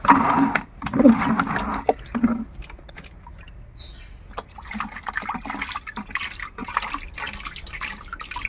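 Liquid for homemade kitchen soap oil is poured into a container, a gurgling trickle heard close up at first, then fading into softer drips and splashes under light background noise.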